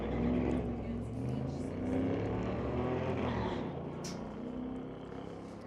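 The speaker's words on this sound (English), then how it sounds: "Baker, tower side, the square body Chev" Drag race cars, including a square body Chevrolet, rumble with loud, continuous engine drone and shifting low tones at a raceway, while an announcer's voice runs over the noise.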